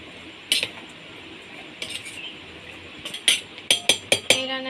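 A spoon mixes ingredients in a bowl for a Bengali chhana bhapa, heard as scattered scrapes and then a quickening series of sharp, close clinks near the end, with no talking.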